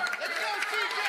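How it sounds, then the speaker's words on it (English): The New York Hustlers team bench cheers during a Major League Pickleball match in Atlanta, a burst of excited overlapping voices and crowd noise, fairly close and continuous through the moment. "You heard the bench of the Hustlers cheering as if the point was over"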